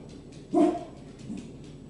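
A single dog barks once at moderate distance indoors, one short loud woof followed by a fainter, softer vocal sound a moment later, with a quiet room background.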